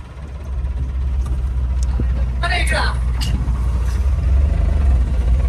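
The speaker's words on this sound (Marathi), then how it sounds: "आता आपण मुरबाडच्या घाटामध्ये गाडी चालवतोय." A car on a mountain ghat road near Murbad, its engine a steady, loud low rumble throughout, with people talking inside the vehicle.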